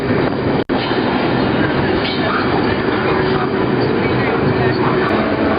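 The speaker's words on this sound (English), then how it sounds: "This train is making a left to the High Line." A freight train rolls along at steady speed, a loud continuous rumble and rattle of rail cars heard up close, broken by one brief dropout near the start.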